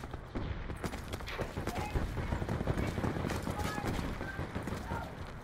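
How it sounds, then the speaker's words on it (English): Rapid, dense gunfire from Call of Duty Black Ops 4 on the Alcatraz map, sustained and busy throughout, mixed with other game noise while players talk over it. "They try to shoot. They is trying to shoot at somebody."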